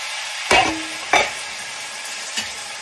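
Homemade spaghetti sauce of tomatoes simmering in a pot, stirred with three distinct scraping strokes of a spoon against the pot, the last softer, over a faint continuous sizzle.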